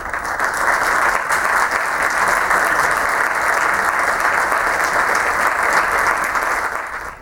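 Sustained, dense applause fills a hall during a solemn memorial session honoring D. Manuel Casanova Bellido, a loud, even wash of many hands clapping that holds steady for several seconds before cutting off.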